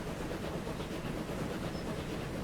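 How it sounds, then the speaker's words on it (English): A passenger train pulls in within the Transport Fever 2 video game, a faint, steady rumble of rolling wheels and hiss that holds evenly throughout, with no voices. "There's another train coming."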